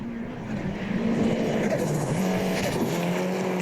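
Rally car racing flat out along a gravel stage in the Canterbury rally, New Zealand: a loud, sustained engine roar with rising and falling revs, a steady tonal drone close by, and no speech.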